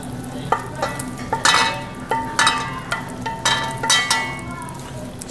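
Beef tips with their juices are stirred into a pan of creamy sauce over egg noodles, giving repeated wet, scraping stirs with a soft sizzle underneath and occasional utensil clinks, close and fairly loud.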